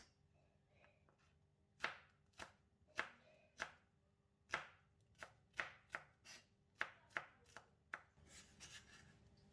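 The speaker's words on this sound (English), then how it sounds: "Next, chop the green chili into small pieces." A knife chops green chili into small pieces for tomato salsa, striking the board in about fourteen crisp, quiet cuts with an uneven rhythm.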